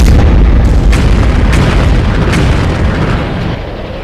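Gunfire from a ship passing close by, delivered as heavy booming explosions that roll out in a loud sustained rumble, with sharper blasts breaking through before the noise slowly fades.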